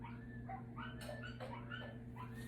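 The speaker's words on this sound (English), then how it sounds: "Yeah, you hear my dogs howling." Several dogs howling and yipping outdoors, overlapping wavering cries rising and falling over a steady low hum, heard from inside at moderate distance.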